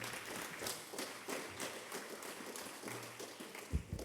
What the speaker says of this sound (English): Please, a huge round of applause for Team Mahidol BCI